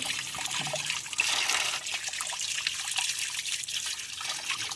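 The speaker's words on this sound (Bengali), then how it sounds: "দেখো গাইস কেমন জলটা পড়ছে" Water pours and trickles steadily at close range in a kitchen, a soft continuous splashing with no voices.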